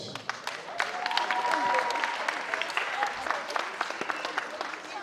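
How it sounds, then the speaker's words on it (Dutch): Applause from a crowd for the winning team at a sports award ceremony after a Christmas football tournament in a sports hall, steady clapping of many hands filling the room for several seconds. "Groot applaus nog één keer voor de Soccer Boys."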